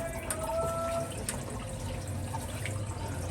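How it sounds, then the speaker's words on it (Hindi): Water running from a tap at a rural home store room, a steady low-level flow with faint dripping and no talk, fairly quiet and continuous throughout. "जरा देखें ये कैसे चलता है इसका पानी।"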